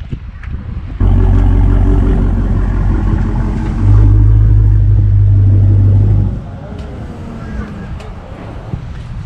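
A Dodge Charger with a mid muffler delete sends out a deep, loud exhaust rumble that swells louder partway through, then cuts off, leaving quieter outdoor background.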